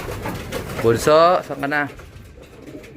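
Racing pigeons coo close by in short throaty bursts, with a person speaking briefly over them.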